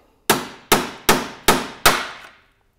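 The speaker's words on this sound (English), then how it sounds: "you want to make sure you don't get too crazy with the hammer and smack any of the plastic" Five evenly spaced, loud hammer blows strike a threaded insert during a T7 Camel tank install, each a sharp metallic knock with a short ringing decay, close up and alone with no talk.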